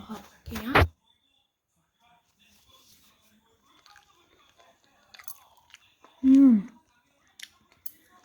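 Someone eats freshly made scrambled eggs, with a couple of close, distinct bites and chewing sounds separated by quiet pauses, plus faint small mouth noises in between.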